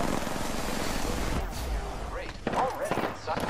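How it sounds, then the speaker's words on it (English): Rapid gunfire in a video game battle at a train yard, dense bursts of shots crackling steadily and loudly, with a player's voice talking over the shooting. "Taking fire"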